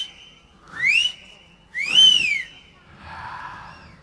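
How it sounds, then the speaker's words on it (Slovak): Three loud human whistles, each a rising, sweeping tone, spaced about a second apart, the third softer and more diffuse, heard alone against a quiet background. "Jánošik trikrát mocne zapískal."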